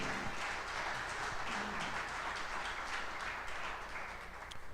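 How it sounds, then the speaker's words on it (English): An audience at a live Green Bay Packers event gives a round of applause for the players, with a broad, steady wash of many clapping hands throughout that fades slightly at the close. "how about a big round of applause for the guys tonight?"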